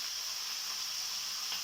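Curry leaves, green chillies, ginger and peanuts sizzling in hot oil for tomato rice, a dense even hiss that stays close and steady throughout, with no voices.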